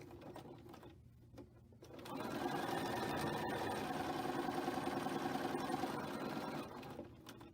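A sewing machine runs steadily while chain-piecing star-pattern quilt blocks, a continuous close mechanical whir that starts after a quiet moment and holds for several seconds before easing off.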